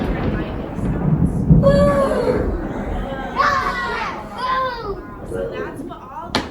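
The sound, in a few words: children imitating thunder and lightning sounds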